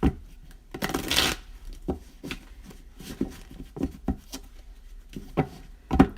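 Tarot cards are shuffled by hand close up, giving soft irregular rubbing and riffling swishes with short slaps and taps in an uneven rhythm and no talk.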